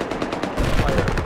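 Rapid automatic gunfire from the video game Battlefield 4 rattles in a fast, dense burst, close and loud, with the shots intensifying partway through.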